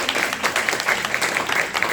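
An audience claps for community partners from Virginia Beach at a trans community gathering, lively and close-up, with individual claps standing out in a quick, uneven rhythm across the whole moment.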